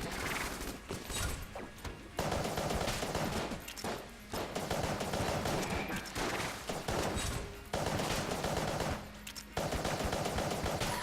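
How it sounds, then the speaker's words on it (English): Rapid gunfire in the video game Enter the Gungeon, dense bursts of shots firing almost continuously with brief gaps, loud and busy throughout without talk. "I am kind of just shooting a little bit wildly."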